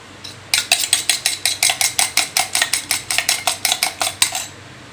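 Beaten eggs with salt are whisked briskly in a bowl, a utensil clinking against the sides in a fast, even run of about twenty sharp taps, close and clear.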